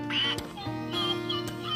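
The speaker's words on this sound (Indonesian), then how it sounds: "Nih bebeknya juga bisa bunyi loh teman." A toy duck quacks loudly twice in quick succession over a steady electronic toy tune and mechanical ticking, close up.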